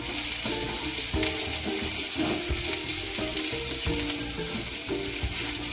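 Capsicum thoran with turmeric frying in a pan, a dense steady sizzle with frequent rhythmic scraping and clanking of a spoon stirring, close and loud throughout.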